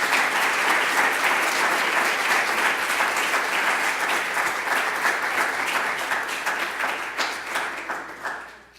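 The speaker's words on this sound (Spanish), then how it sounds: "Un aplauso, por favor." A graduate forum audience of graphic communication design alumni gives sustained applause, dense and even clapping that carries on for several seconds before gradually thinning toward the end.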